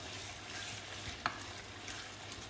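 Tomatoes simmer in a pot for oxtail stew, giving a soft continuous sizzle and bubbling hiss with one brief clink near the middle, fairly quiet and without talk.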